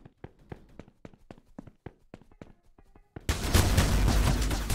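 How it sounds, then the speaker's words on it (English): AA-12 shotgun blasts ring out in the shooter Energy Assault, a rapid string of sharp close shots with footstep-like thuds between them, then a dense loud burst of gunfire and noise at the end. "Got hit by another AA-12. Ah, got two shots in and it reloaded."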